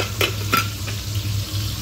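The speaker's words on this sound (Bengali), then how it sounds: "এইরকম ফুলকপি ভাজা হচ্ছে, তরকারি করব তার জন্য ভেজে নিচ্ছি ফুলকপিটা।" Cauliflower pieces fry in hot oil in a pan with a steady sizzle, broken by a couple of sharp scraping stirs near the start, close and alone without talk.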